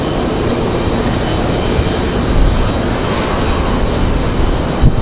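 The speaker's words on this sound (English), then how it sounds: "right, there she is. The 777 from Paris. Still wheels up." A Boeing 777 airliner with GE90 engines passes overhead near Raleigh-Durham International Airport with its landing gear still up, producing a loud, steady, broadband jet roar that fills the whole stretch without letting up.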